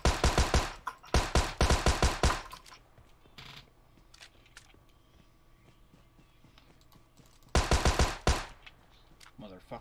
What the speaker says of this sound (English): What are you shooting at now?